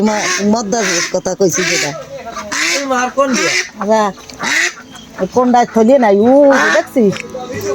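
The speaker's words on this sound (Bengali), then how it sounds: "এটা মদ্দা হাঁস" A male duck being caught in the rain quacks loudly and repeatedly up close, with people talking over the rasping calls throughout.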